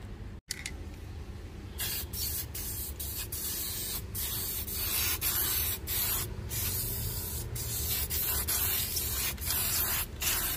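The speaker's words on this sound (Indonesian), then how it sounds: "Sekarang tinggal semprot dengan cat putih." An aquarium lid gets sprayed with white spray paint in a series of close hissing bursts, some short and some sustained, separated by brief pauses, with no talk.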